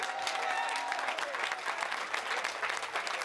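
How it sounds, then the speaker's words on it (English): A festival crowd at Wacken applauds a Spanish metal band, a sustained burst of clapping with faint tones and murmuring underneath. "So give a big applause."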